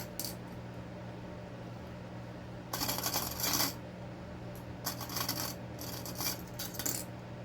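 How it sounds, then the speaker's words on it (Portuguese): Small sewing clips being placed on fabric and a zipper, heard as a few bright, close clicking bursts over a steady low hum. "Vou colocar uns clipezinhos aqui."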